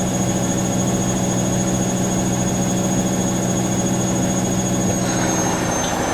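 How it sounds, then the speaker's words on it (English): A Siemens WH54080/07 Extraklasse XL 1000 washing machine on a 90° cottons cycle spins for its final rinse, giving a steady, loud, unbroken whirring hum with a high whine, and no voices. "We spin for the final rinse, which the other ones didn't do."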